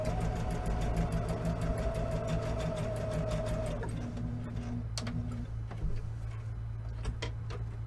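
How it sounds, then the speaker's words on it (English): A sewing machine stitches quilt block pieces together, a steady mechanical hum and rapid needle ticking running for the first few seconds, then stopping and leaving softer handling clicks and a low background hum. "the third piece from each row gets sewn together"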